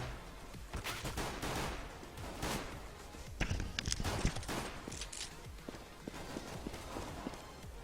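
Gunfire in Counter-Strike: Global Offensive, with scattered rapid shots and bursts mixed with running footsteps, fairly faint throughout.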